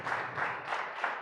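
A church congregation welcoming pastora Ana with applause, heard as a brief, steady wash of many hands clapping together, with gentle swells in loudness.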